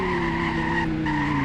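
A car braking hard in the Roblox game Greenville, with a sustained tonal tire squeal that holds steady with a slight dip in pitch, loud and continuous over the engine's hum.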